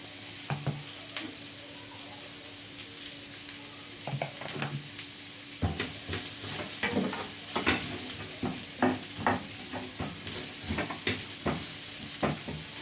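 Salted onions sizzle in a pan while being stirred, the soft constant frying hiss broken by repeated scraping and clinking of the utensil that grows busier and more rhythmic in the second half.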